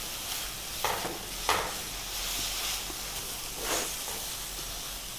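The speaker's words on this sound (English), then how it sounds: "We'll have to saute it for another couple of minutes." A seer fish cutlet mixture is sauteed in a pan, giving a soft continuous sizzle and hiss broken by a few brief scraping stirs of the spoon, close and fairly quiet with no talking.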